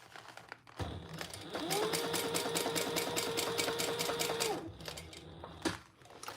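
A sewing machine stitches vinyl for a tissue box cover, starting with a few slow stitches, then running at a steady fast whirring rhythm for several seconds before slowing and stopping, heard close and fairly quiet.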